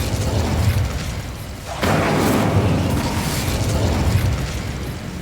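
The Incendio fire spell cast in Hogwarts Legacy, a sudden whooshing burst of flame that swells into a loud, sustained roaring crackle after a lower rumbling lead-in.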